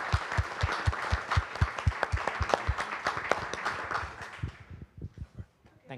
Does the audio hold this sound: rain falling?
no